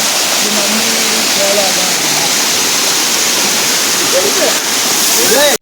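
A waterfall in Dharmapuri roars as a loud, steady rush of falling water, with people's voices faintly heard over it.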